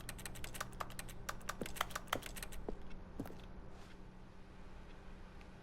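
Keyboard typing sound effect from The Stanley Parable video game: a run of quick, crisp key clicks, irregular and close, with a dense burst early on that thins out to a few scattered taps over faint background hum.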